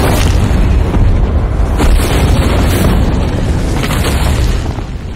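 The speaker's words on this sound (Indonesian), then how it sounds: "Natalie menembakkan mulut Rathalos dengan sebuah peledak" A loud, rumbling explosion from a film fight scene in Monster Hunter (2020), where an explosive is fired into a Rathalos dragon's mouth, booms heavily and stays sustained and thunderous throughout.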